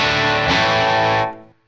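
A guitar chord rings through a Fender tube amp cranked to about 7 with the bass rolled off, thick and driven, sustaining loudly before being cut off and decaying quickly.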